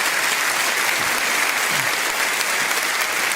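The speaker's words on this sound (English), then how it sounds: "Please, ladies and gentlemen, another round of applause for Scott Woodhouse and Tina Goodell." A dense, even burst of applause fills the hall at a Reform UK rally in Norfolk, loud and sustained throughout with no break.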